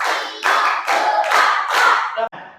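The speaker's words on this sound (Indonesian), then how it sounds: "Tepuk satu, tepuk dua, tepuk tiga, tepuk empat, tepuk lima" Hands clapping in a counting clap game led by a teacher in a classroom, several bursts of group claps in rhythmic sets, fairly loud and close, with voices chanting along.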